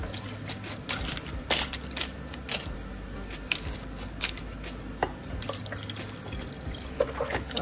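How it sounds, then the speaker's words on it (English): Water poured into an Instant Pot over beef stroganoff ingredients, splashing and dripping liquid with irregular knocks and clinks, fairly quiet and close, no talking. "I'm going to go ahead and add enough liquid to just barely cover those."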